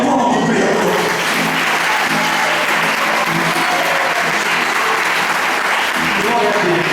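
A church congregation claps together in sustained, dense applause that stays loud and steady from start to finish, with voices faintly mixed in.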